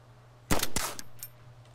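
A quick burst of gunshots in DayZ, two or three sharp cracks close together followed by a fainter shot, against an otherwise quiet, humming background.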